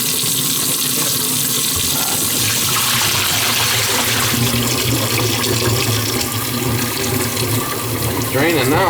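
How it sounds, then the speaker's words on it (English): Running water in a slow-draining, backed-up kitchen sink, a steady loud gushing and splashing that fills the whole stretch, with a gurgling swirl near the end. "It's draining now"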